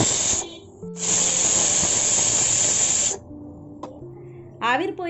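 A pressure cooker cooking aloo biryani lets out loud bursts of hissing steam, a short blast and then a sustained two-second jet, followed by quieter clatter and a brief voice at the end.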